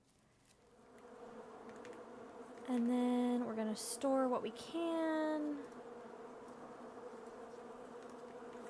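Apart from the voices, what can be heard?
buzzing bees in Island Beekeeper video game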